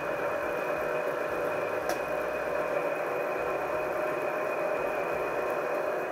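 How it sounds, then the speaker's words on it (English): A milling machine fly cuts metal at 360 RPM on automatic feed while rebuilding a Cooper S rocker gear, giving a steady, loud mechanical drone with a constant whine and no pauses or speech. "So I'm spinning this around 360 RPM, and for fly cutting that's more than enough."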